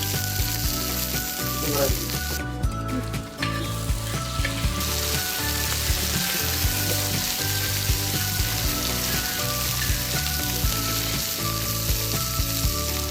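Curry leaves, garlic and ginger fry in hot oil for a Malabar tapioca biryani, giving a continuous loud crackling sizzle close by with occasional stirring scrapes.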